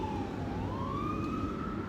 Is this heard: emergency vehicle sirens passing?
yes